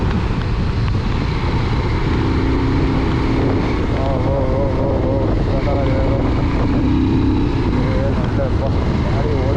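A motorbike ride along a road in monsoon weather between Bengaluru and Wayanad, a steady loud engine drone buried under heavy wind buffeting on the microphone throughout, with someone talking over it.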